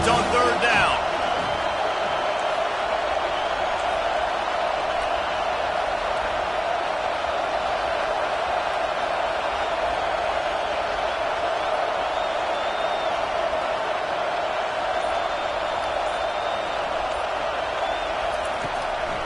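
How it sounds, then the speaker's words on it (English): A sustained stadium crowd roar in a football video game, swelling behind the defense on third down and holding loud and continuous throughout, with a commentator speaking over it. "Decibels rising as the crowd gets behind this defense on 3rd down."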